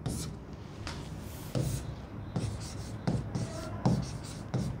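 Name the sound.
writing on a board during a lesson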